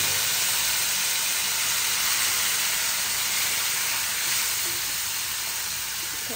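Dal frying in a hot pan with dried chillies and spices, a steady broadband sizzle and hiss running evenly throughout at moderate level with no talk.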